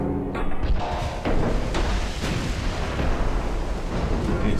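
Naval guns firing in the warship game Ultimate Admiral Dreadnoughts, a dense run of heavy booms and bursts rolling over one another without pause.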